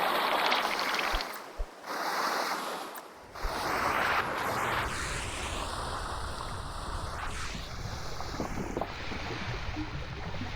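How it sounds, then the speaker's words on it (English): Water sloshing and splashing as it is bailed from a sinking dhow in the sailing game Sailwind, with a continuous wash of watery noise, a few brief drops to near silence, and steady splashes throughout, no voices. "It's been a while since I bailed water."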